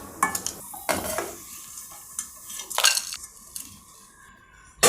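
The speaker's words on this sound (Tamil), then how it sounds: "பெருங்காயம் இதில் பொரித்து எடுத்துடலாம்." Asafoetida fries in sesame oil in a pan, heard as a close sizzle broken by sharp scraping and clinking of a metal spoon stirring against the vessel, with a louder clatter at the end.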